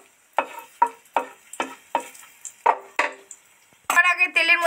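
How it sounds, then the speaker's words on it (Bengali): Pieces of dried red chilli and a bay leaf going into hot oil for a Bengali duck egg curry: about eight sharp, evenly spaced clinks and taps, then a sudden loud burst of crackling sizzle at the end. "তেলের মধ্যে একটা শুকনো লঙ্কার 2 টুকরো করে দিয়ে দিলাম, একটা তেজপাতা টুকরো দিয়ে দিলাম"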